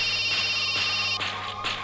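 A phone ringtone trills in repeating electronic bursts, loud and close, with no one speaking.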